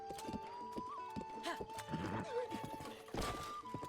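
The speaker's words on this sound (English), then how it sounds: "You ain't never seen a horse before?" Horse hooves clip-clop at a rapid gallop rhythm in the Zelda game world near Kakariko Village, with a shrill whinny partway through, close and loud over game music and ambience.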